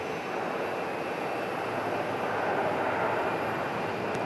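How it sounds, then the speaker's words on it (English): A Southwest Airlines Boeing 737 Max 8 from Salt Lake City at Phoenix Sky Harbor gives a steady, broad jet rumble that swells slightly midway, heard from a distance without talk. "737 from Salt Lake City, Southwest Airlines here on a Max 8"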